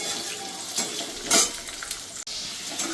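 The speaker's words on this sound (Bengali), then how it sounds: "এবার আলুটা একটু হালকা ভেজে নেব" Potatoes frying in a pan with black cumin seeds, a steady close sizzle with a brief louder hiss and clatter as the pieces are stirred.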